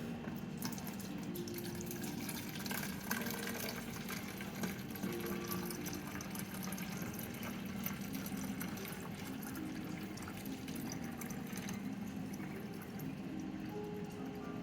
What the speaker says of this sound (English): You need to fill it up completely with water.